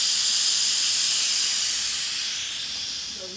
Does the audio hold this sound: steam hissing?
yes